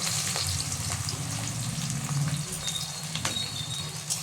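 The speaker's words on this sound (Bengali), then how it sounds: "এখন বেরেস্তাটা করব, বেরেস্তাটা করে নিই।" Onions fry in a pan for crispy fried onions, giving a dense, continuous close sizzle with a watery hiss and a few faint clicks, steady in loudness throughout with no voices.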